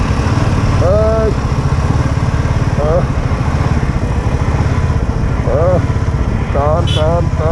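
A Royal Enfield motorcycle engine thumping steadily and loud up close, with a continuous low pulsing throb and a voice calling out over it at times.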